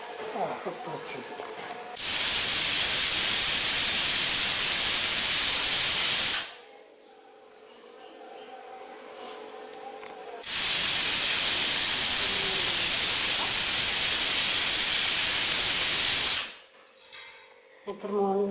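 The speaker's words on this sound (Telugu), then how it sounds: "ఇప్పుడు 3-4 విజిల్స్ వచ్చినాయి కాబట్టి స్టవ్ ఆఫ్ చేసుకుందాం" A pressure cooker cooking mango dal gives two long, loud hissing steam whistles, each about four to six seconds, separated by a quieter stretch of low kitchen background.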